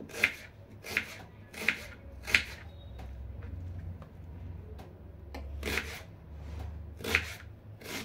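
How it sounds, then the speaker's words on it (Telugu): A knife chops onions and tomatoes into small pieces on a cutting board for street-food pav bhaji, giving crisp, close knocks in an uneven rhythm with a pause midway, over a faint low hum. "ఇప్పుడు వీటన్నిటిని చిన్న చిన్నగా కట్ చేసుకుంటున్నాను."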